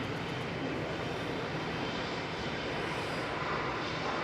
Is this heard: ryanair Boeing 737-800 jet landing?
yes